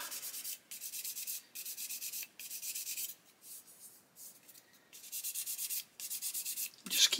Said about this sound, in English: the sanding stick makes no problem at all of sanding it away